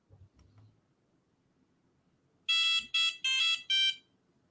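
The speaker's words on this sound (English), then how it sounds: "We've got a buzzer on here as well. So if I press a reset, you'll hear." A small electronic buzzer on a microcontroller board plays a short four-note tune on reset, bright and piercing, after a faint click, in an otherwise quiet room.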